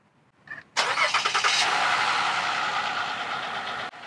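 A car's engine cranks and catches, then runs at a loud, steady idle for about three seconds before being cut, while the car sits on an incline during a home oil change.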